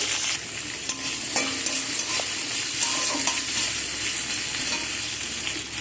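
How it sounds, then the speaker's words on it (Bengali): Capsicum frying in a pan sizzles steadily throughout, with occasional scrapes and clicks from stirring, close and fairly loud with no talk. "এখন আমি ক্যাপসিকামগুলো ভেজে নেব"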